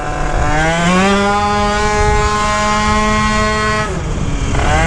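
A Malaguti Phantom F12 race scooter engine runs loud and close. Its buzzing whine climbs in pitch, holds high, then drops briefly near the end before picking up again, with no talk over it.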